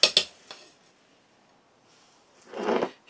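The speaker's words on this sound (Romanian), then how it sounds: "Amestecăm puțin" Spoon clinks against a bowl in a couple of quick taps, then a short pause before a louder stretch of scraping and stirring as batter with rum and milk is mixed for a fluffy cocoa cake.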